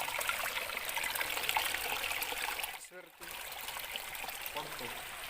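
Spring water flowing through a cave in Matag-ob, Leyte, a constant rushing trickle filling the space, briefly interrupted by a short drop before resuming steadily.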